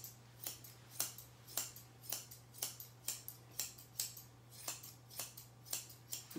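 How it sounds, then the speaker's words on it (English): Grooming scissors cut a Kerry Blue Terrier's coat in wide, full-length snips, a steady rhythm of soft, crisp cuts about twice a second, fairly quiet and close, with no talking. "using the full length of my scissors, so opening them wide and getting good wide cuts"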